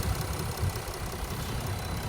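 A Land Rover Discovery engine idling, a steady low rumble with an even throb that holds close and constant throughout, with no voices over it.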